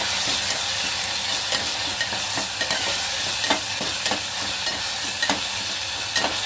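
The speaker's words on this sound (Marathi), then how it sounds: "पण चांगला मिक्स करून घ्यायचा" An onion and garlic masala for mushroom masala is stirred as it fries in oil, close and steady, with a constant sizzle broken by repeated scraping strokes of the spoon.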